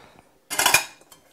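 Metal camp cookware, a pot lifter, bread pan and cake pan, clinks and rattles together in one short clattering burst near the microphone, with quiet moments before and after.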